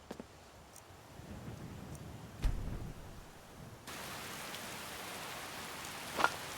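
Steady, fairly faint rain falls in Skyrim with the Wildlander overhaul, a soft hiss with a dull thump midway, then the downpour thickens into a denser wash and a brief sharp tap near the end.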